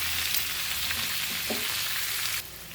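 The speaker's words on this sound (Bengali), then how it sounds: "এই যে সবজিগুলো এবার ভাজতে দিয়েছি, ঢাকা দিয়ে দিয়ে ভাজবো" Vegetables fry in oil in a covered pan, giving a steady, dense sizzle with a few soft stirring knocks before the sound drops quieter near the end.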